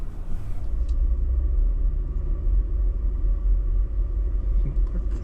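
A vehicle drives slowly through the mountain town of Creede, Colorado, heard from inside as a low, steady engine rumble and road noise, continuous and unbroken.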